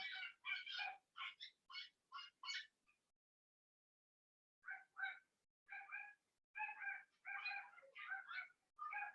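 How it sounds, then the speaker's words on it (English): Two little dogs at a house yap in rapid, high-pitched bursts, fall quiet for a couple of seconds, then start up again, a little distant, with no one talking. "You might be able to hear there's two little dogs that live at this house."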